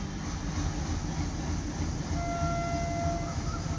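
Train running steadily in a Bengali audio story, a continuous low rumble and rattle of wagons with a faint, sustained horn-like tone toward the end.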